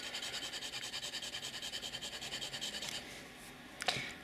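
A fine-nib fountain pen scratches across paper in rhythmic, regular strokes, very faint and close, then pauses before a single sharper tap.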